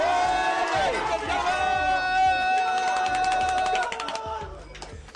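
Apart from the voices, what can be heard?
crowd cheering at a poker tournament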